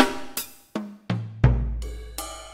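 Grinder preset of the Cakewalk SI Drum Kit, triggered from a computer keyboard: a handful of separate drum hits, a cymbal-like crash, snappy snares, then a deep booming kick and ringing cymbals, close and alone.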